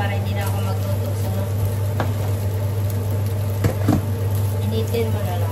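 Fried rice with eggs and carrots sizzles steadily in a pan, with a constant hiss, a low steady hum, and occasional scraping and stirring knocks, while a person talks over the cooking.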